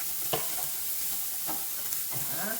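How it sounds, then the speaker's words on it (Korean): Shiitake mushrooms stir-fry in a pan for japchae, sizzling steadily as a utensil scrapes and tosses them in a few distinct strokes, close up with no talking. "표고 볶아줍니다."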